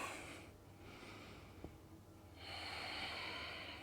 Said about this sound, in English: And again, breathing in.